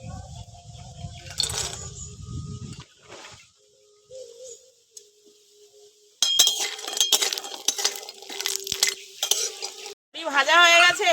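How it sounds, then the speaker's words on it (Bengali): Lentil bori frying in a pan for a Bengali vegetarian chorchori: a soft low sizzle at first, then quiet, followed by close metallic stirring, scraping and clinking of a utensil, with a brief voice near the end. "তার জন্য বড়িগুলো ভেজে নেব"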